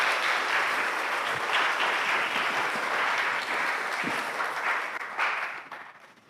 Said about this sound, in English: Wow, I didn't know that we would clap for me coming up here.